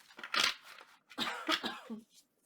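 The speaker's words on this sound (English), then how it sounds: "So sorry for coughing." A couple of close, dry coughs from a sick person in two short bursts, quiet, with a brief pause between them.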